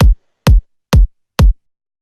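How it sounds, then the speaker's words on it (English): Four punchy, loud compressed kick drum thumps in a steady beat, each with a tight low boom and a short decay. "doing this like with the compression just really brings out that bottom in like any kick"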